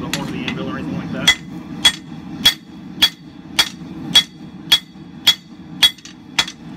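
Hammer blows on hot steel at an anvil while forging a large tomahawk from a big chunk of steel with a rounding hammer: about ten sharp, ringing strikes at an even pace, close and loud over a low steady hum.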